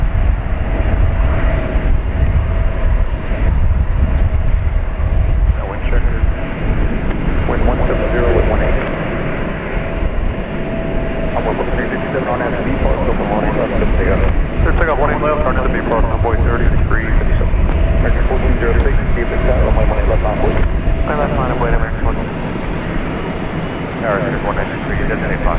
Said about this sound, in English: we're going to try to get a look at Air Canada Flight 1033. This is coming in from Toronto. Be an Airbus A220.